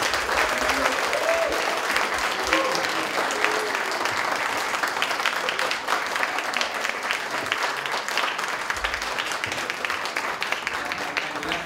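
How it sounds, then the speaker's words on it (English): Sustained audience applause at a concert, thick and continuous across the whole stretch, with occasional voices and cheers faintly mixed into the clapping. "I want to invite everybody to give a big warm applause to all"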